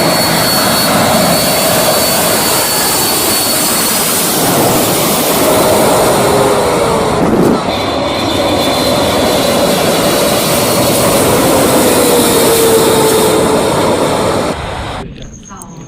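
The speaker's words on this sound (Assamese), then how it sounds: "এই যে প্লেন লেণ্ডিং কৰা ভিডিঅ'টো দেখিলে এইটো ৰিয়েল হয়।" A jet airliner lands at Phuket airport with a loud, continuous roar of engines and rushing air that holds steady close by, then drops off sharply at the very end.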